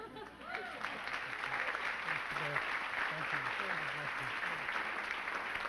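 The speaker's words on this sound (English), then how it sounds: "Big round of applause for John Andrus, Monique Calaco." Steady audience applause fills a charity gala hall, dense clapping sustained throughout at moderate distance with no pauses.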